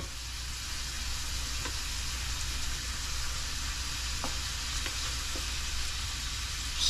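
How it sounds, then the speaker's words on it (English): Shrimp sizzling in a hot pan: a steady, even frying hiss that carries on throughout, with a few faint pops and clicks scattered over it. "Shrimp are cooking."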